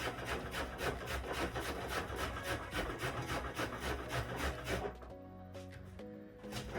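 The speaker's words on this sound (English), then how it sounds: "You gotta grate all these down." Vegetables for coleslaw are grated by hand, giving quick, regular rasping strokes at close range for about five seconds before the scraping stops and a quieter tail follows.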